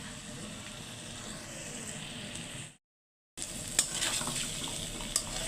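Bitter gourd bhaji with plenty of onion and tomato frying in a pan, giving a steady soft sizzle that cuts out briefly and then returns with a few small pops and stirring clicks.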